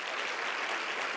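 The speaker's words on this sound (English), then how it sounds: "Don't waste it on simply applauding" Audience applause after Al Gore's speech, a steady dense wash of clapping from a crowd heard at a distance and fairly faint, with no other sounds.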